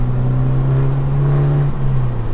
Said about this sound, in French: Et si j'accélère à fond